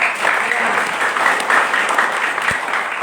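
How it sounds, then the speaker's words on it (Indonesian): Congregation at a prison church service clapping together, a loud, dense and fairly steady burst of applause close to the microphone, with a brief thump partway through. "Kita tepuk tangan untuk Tuhan."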